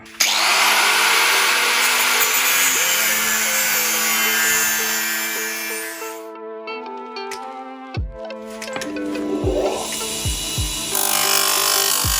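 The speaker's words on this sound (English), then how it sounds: "We're gonna have to cut them bolts down a little bit." A power tool cuts bolts down to length during a Scott Bonnar Supercut model 17 countershaft install, producing a loud, steady high grinding whine for several seconds that drops away, then resumes with clanks and a rising spin-up.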